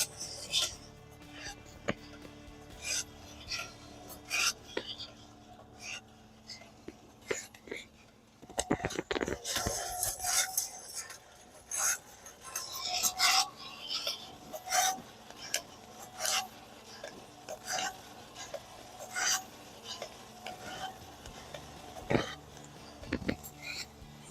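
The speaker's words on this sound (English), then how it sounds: "Got the first crack happening." Coffee beans in a roaster reaching first crack: scattered sharp pops and snaps, sometimes in small bursts, over a steady roaster rumble with someone talking softly.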